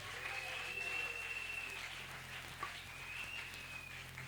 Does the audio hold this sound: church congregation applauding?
yes